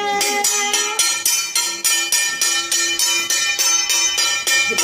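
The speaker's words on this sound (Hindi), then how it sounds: "ये बच्चों को दे दो घंटी बजाने वाला" A hand bell rung steadily during a home ritual, bright metallic strikes repeating in a quick even rhythm, loud and close with overlapping ringing tones throughout.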